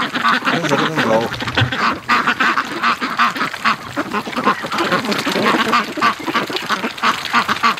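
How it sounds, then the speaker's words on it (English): A flock of ducks quacks loudly and continuously while out in the snow, a dense, close chorus of overlapping calls. "Ducks in the snow."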